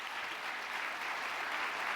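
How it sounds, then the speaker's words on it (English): Audience applause fills a State of the State address by Governor Andrew Cuomo in New York, a steady dense clapping from a large crowd that holds even for two seconds with no break. "Let's give them a round of applause."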